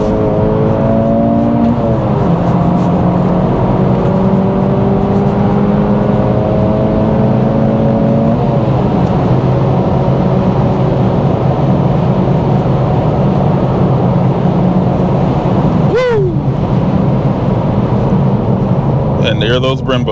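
A 2024 Acura Integra Type S accelerates hard on a highway, its engine note climbing steadily through several gear changes with a continuous loud drone and road noise heard from inside the cabin.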